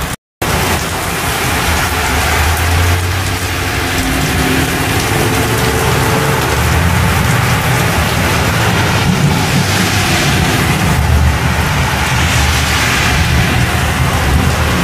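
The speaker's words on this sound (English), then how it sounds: "The wind is the problem. It flows the rain right in here." Heavy wind-driven rain pours down in a severe summer thunderstorm in Westbury, a dense, steady roar of broadband noise with low rumbling gusts, loud and close, continuous for the whole stretch after a brief dropout at the start.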